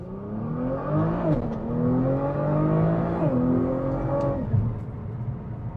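A Nissan R35 GT-R, running a test transmission with a selector valve body, accelerates hard through 4th, 5th and 6th gears; a loud, steady engine note climbs in pitch, drops sharply at each of two quick upshifts, then climbs again.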